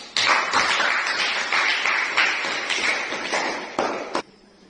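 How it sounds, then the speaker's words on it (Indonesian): A classroom group claps together in a lively, even round of applause. It starts sharply, holds for about four seconds, then breaks off and leaves near silence. No one speaks over it. "maka marilah kita tepuk tangan bersama-sama"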